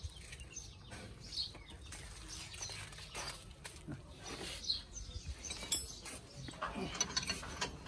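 A ratchet loosens bolts on the front differential of a Mahindra Bolero 4x4 pickup truck: rapid clicking pawl sounds and clanks of metal on metal go on steadily under a low background hum, with some talk nearby.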